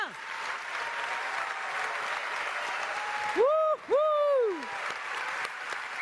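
Audience applause in a hall during a French award ceremony for the Liliane Bettencourt Prize for the Intelligence of the Hand, steady dense clapping throughout, with a couple of loud whoops and cheers near the middle.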